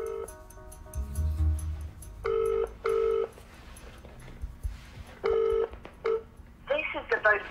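A telephone number is keyed in as a series of clear DTMF tones, arriving in short clusters separated by pauses, with low background noise in between and a brief voice near the end.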